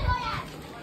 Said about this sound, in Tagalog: Pasensya na sa ingay ng mga bata